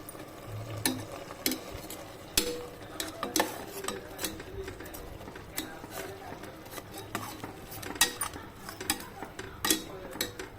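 Ginger garlic paste stirred into browned onions in a frying pan for chicken biryani, with repeated scraping clinks of a spoon against metal and a soft sizzle underneath, close and moderately loud.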